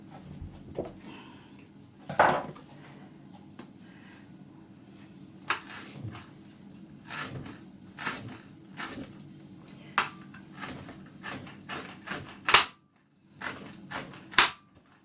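Sharp knife chopping peppers small on a board, a run of crisp, irregular taps with pauses, close and fairly loud, with low kitchen hum underneath and no talking.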